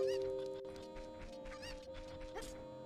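Cuckoo chicken in Ocarina of Time, a series of short clucking calls over game background music, fairly close and moderately loud.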